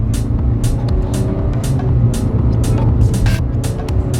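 A Hyundai Creta with a 1.5-litre engine and CVT gearbox pulling steadily under acceleration, a low sustained engine drone heard from inside the cabin, with faint clicks and taps scattered over it.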